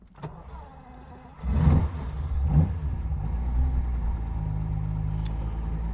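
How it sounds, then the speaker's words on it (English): A 1973 Ferrari 365 GTB/4 Daytona that has sat outside for a while cranks with a couple of loud bursts and catches, then settles into a steady, deep idle rumble close by. "the Daytona's been outside for quite some time, so let's fire it up"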